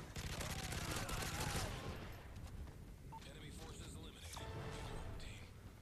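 Sustained automatic fire from a FAD assault rifle in Call of Duty MW3 Strongholds, loud rapid volleys at first, then scattered shots and game effects while someone talks over it.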